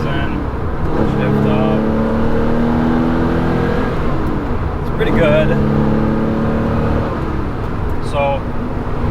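A Porsche 993 911 Carrera RS with a 3.8-liter engine accelerates hard through the gears from inside the cabin, revs climbing steadily, dropping at a shift, then climbing again, while someone talks over the loud, constant engine drone.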